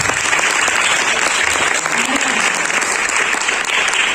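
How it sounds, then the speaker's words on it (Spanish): An audience at a women's dialogue event applauds a tireless worker for equality, producing loud, close, continuous clapping from many hands that stays dense and even throughout. "Así que otro aplauso por ella."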